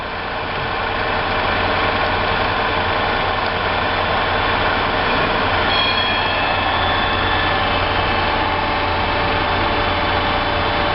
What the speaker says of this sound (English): Here we're drilling some holes.